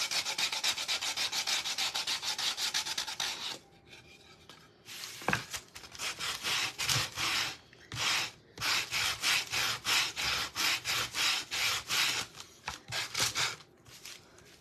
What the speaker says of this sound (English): Sand this part and the top of the steeple.